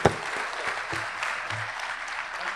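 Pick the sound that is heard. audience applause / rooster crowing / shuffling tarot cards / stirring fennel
audience applause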